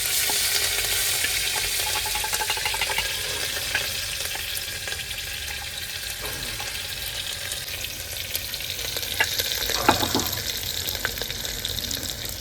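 Chopped garlic and ginger fry in very hot oil, giving a steady, bright sizzle with scattered crackles and pops that rise briefly near the end, with nobody talking.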